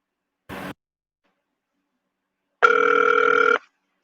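A telephone line on the Legal Aid of Nebraska housing hotline: a brief dialing burst, a pause, then a single steady electronic ring tone lasting about a second, clear and alone.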